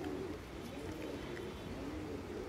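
A Kalanka pigeon with pearl-coloured eyes coos softly and steadily in a loft, with low rolling murmurs that recur across the short stretch against faint background noise.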